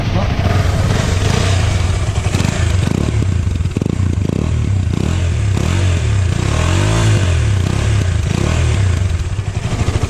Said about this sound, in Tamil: பைக்கோட எக்ஸாஸ்ட் நோட் கேட்போம் இப்போ எப்படி இருக்குன்ட்டு